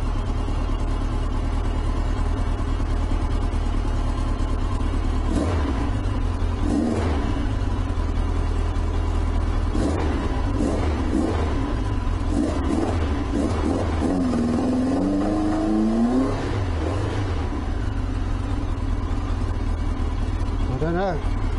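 A Yamaha XJ900S motorcycle engine idles with the choke pushed all the way in and no air filters fitted, a steady low rumble with several blips of the throttle rising and falling, while someone talks over it.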